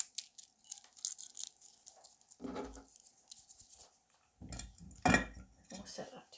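Dried angelica herb is crumbled and dropped into a bowl, making crisp rustling and crackling with a few clinks against the bowl, while a voice talks quietly.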